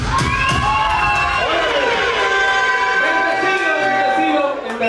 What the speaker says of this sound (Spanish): Yo quiero un fuerte aplauso para la memoria y este muchacho.